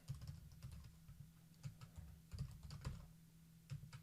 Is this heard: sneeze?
no